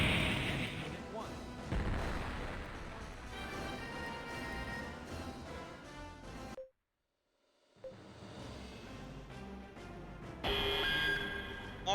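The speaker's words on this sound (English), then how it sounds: "On the enemy vessel. Fire all guns." Spaceship guns in the game Infinite Space fire at an enemy vessel in repeated booming volleys under loud game noise and talk, broken by a brief silent pause before the barrage resumes.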